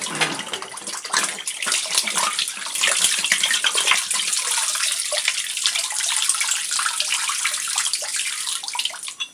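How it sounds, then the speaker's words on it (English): Water gushes and splashes steadily as soaked bottles are tipped out and emptied during mead-making preparation. The sound is close, loud and continuous, with bright spattering throughout and no speech. "now that my bottles have soaked for 10 minutes, we're just going to empty them out"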